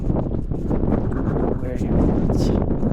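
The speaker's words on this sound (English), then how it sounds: "it's very windy now." Strong wind blusters across the microphone on the coast at Fanad Lighthouse in Ireland, a loud, rumbling roar with gusty swells that stays steady throughout.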